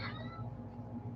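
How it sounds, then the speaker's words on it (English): A pet cat meows once, a short rising cry near the microphone, over a low indoor hum. "if you hear the cat meowing"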